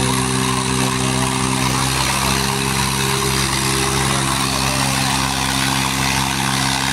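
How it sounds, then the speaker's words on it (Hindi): Two tractors, a Swaraj and a Sonalika, strain against each other in a tug-of-war in Shamli, their engines giving a steady, loud, low diesel drone with droning harmonic hum held throughout. "दोनों ट्रैक्टर खड़े खड़े जोर लगा रहे हैं भाई"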